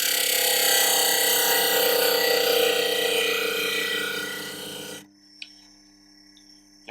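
A Proxxon TG 125/E disc sander grinds steadily and loudly against a workpiece for about five seconds, then the rasping stops abruptly and only a faint motor hum and small clicks remain.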